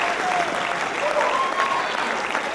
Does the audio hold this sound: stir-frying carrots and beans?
no